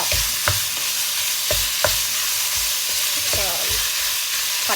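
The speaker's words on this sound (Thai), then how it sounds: "เเราก็จะคั่วหมู" Pork stir-frying in a pan: a steady sizzle under repeated sharp scrapes and clanks of a utensil against the pan, several strokes spaced about a second apart, close and loud.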